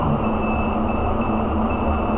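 An Xbox One console with a suspected northbridge fault gives off steady, continuous high-pitched electronic beeping with a rough, raspy edge, heard alone and fairly close with no talking over it.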